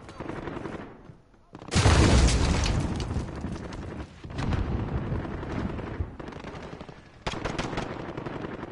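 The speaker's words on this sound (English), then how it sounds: "Throwing frag." A frag grenade explodes in the video game GTA 5 with a sudden loud, heavy boom that rolls off into sustained rattling gunfire and bursts of shots.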